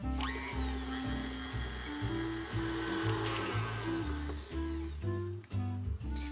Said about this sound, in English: So now that we have our butter in our mixer, we're going to cream this on low speed just until it's a nice creamy consistency.